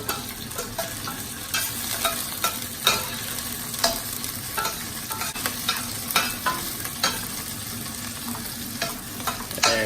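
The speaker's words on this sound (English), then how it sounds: "And we're frying this in olive oil." Fresh chopped garlic frying in olive oil with green chili, a steady sizzle broken by repeated scraping stirs of a utensil in the pan, close and fairly loud with no talking.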